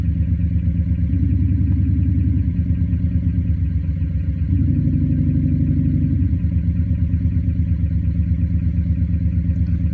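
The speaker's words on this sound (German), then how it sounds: "Und hier treffe ich die Einstellung, wie sich das Fahrzeug im Stand anhören soll." An idling car engine sound played through an active sound system, a steady low rumble with a subtle shift partway through, loud and continuous with no talk.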